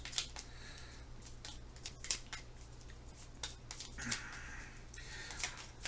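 Cardboard trail pieces from the board game Parks are shuffled by hand on a table, giving soft, quiet rustling and scraping with occasional light clicks, close and low in level.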